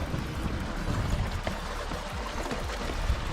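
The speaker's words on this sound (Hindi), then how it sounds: "मुझे पानी की आवाज़ एक्साइट कर रही है।" A steady wash of flowing water from a clear stream in Meghalaya, broad and continuous, rushing close by with some wind buffeting and no voices.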